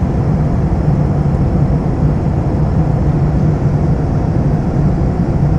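Cabin of a passenger jet cruising at around 800 km/h between Bangalore and Jaipur: a loud, constant low roar and rushing air, steady and unbroken throughout, with no voices.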